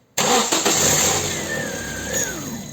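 A car engine cranks and fires for a short start during a power steering fluid change, catching abruptly and running at a steady, loud idle with a slight rev before the clip ends.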